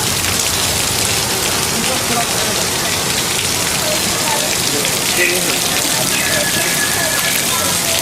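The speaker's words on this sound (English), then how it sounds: "they spray the water up into the air so that it falls down naturally to simulate rain" Steady, dense hiss of water from sprinklers spraying into the air to fall like heavy rain, simulating rain on a studio backlot, continuous and close, with a faint murmur of voices underneath.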